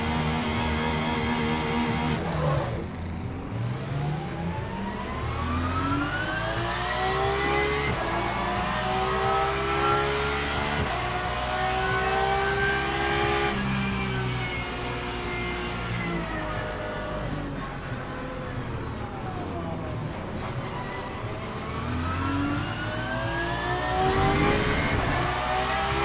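Race car engines on a formation lap at Fuji in the rain in the Le Mans Ultimate sim, several cars droning and rising and falling in pitch together, steady and loud throughout with no talking.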